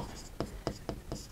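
Pen writing an answer by hand on paper, giving four short scratchy strokes at a steady pace, close and fairly quiet, with no speech.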